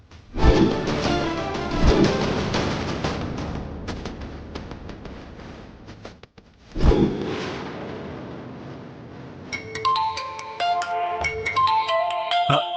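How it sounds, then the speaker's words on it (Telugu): Loud, crowded bar noise with thumps fills most of the stretch, then an electronic mobile phone ringtone starts playing its repeating melody near the end. "మావిడ ఫోన్ చేస్తుంది."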